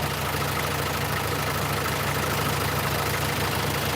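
A car engine idles steadily after an oxygen sensor replacement, a continuous low rumble with an even mechanical hum and no voices.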